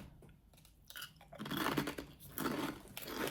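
Crunchy barbecue-flavoured snacks from an Aldi packet are chewed close up, with steady crisp crunching that grows louder after the first bites, and no talking.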